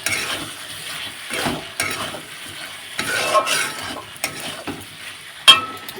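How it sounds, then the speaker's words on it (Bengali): Curry being thoroughly stir-fried in a pan in a home kitchen, giving a steady sizzle with irregular scraping and stirring strokes and an occasional clink of utensil against metal, close and continuous with no talk. "এদিকে কিন্তু আমি খুব ভালোভাবে তরকারিটা কষে নেব"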